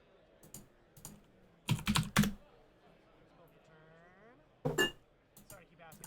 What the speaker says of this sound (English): my keyboard is kind of a clicky mechanical one, so you will hear that in the audio